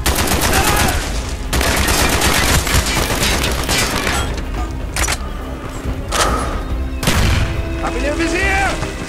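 Rapid bursts of gunfire from a World War 2 video game crack out in dense volleys with booming hits, loud and close, separated by brief pauses while shouted voices cut in.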